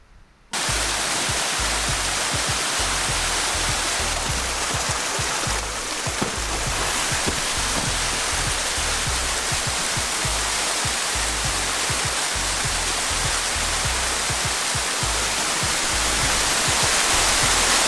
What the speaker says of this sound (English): This is the best way I can think of representing a rain shower.